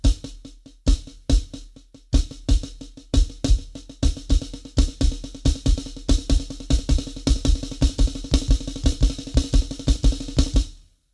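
A drummer plays a fast snare rudiment on a kit, with bass drum kicks landing under the accented strokes, a dense, steady, close stream of hits that runs about ten seconds without talk.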